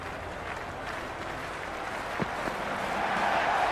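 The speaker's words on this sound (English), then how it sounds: "already the crowd is up and about" A cricket stadium crowd at a Rawalpindi versus Karachi Kings PSL match in Lahore claps and murmurs in a steady, diffuse wash of applause that swells slightly toward the end, with one sharp knock partway through.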